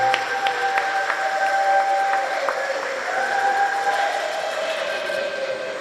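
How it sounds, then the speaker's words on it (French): Applause and cheering at a baptism and first communion ceremony, a sustained crowd roar with dense clapping, steady and fairly loud, with whistling tones running through it. "Une fois de plus, acclamons très fort."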